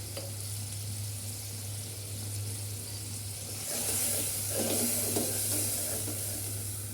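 Ground turmeric, chili, cumin and coriander powders fry in oil in a pan for a cauliflower and egg curry, a low steady sizzle that swells louder midway with faint stirring scrapes, no talk.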